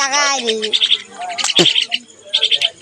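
A pet common myna in a cage calls with loud, close, repeated chirps and warbling notes, while a person talks in the background.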